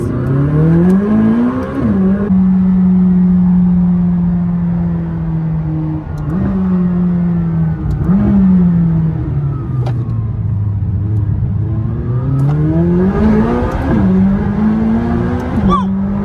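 McLaren 600LT sports car on a track, its engine roaring loudly as it accelerates through rising gears, then braking with sharp downshift blips, with several repeated acceleration and downshift cycles and someone talking over it.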